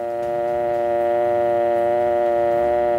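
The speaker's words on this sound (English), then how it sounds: "remove the receiver and listen for the dial tone" A steady telephone dial tone hums continuously for a few seconds, unbroken and clear, with nothing else around it.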